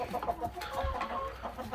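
Backyard hens clucking close by in a steady, busy chorus of short, overlapping calls, with no one talking.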